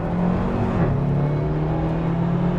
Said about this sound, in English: this is so slow with the stock engine, isn't it, Misha?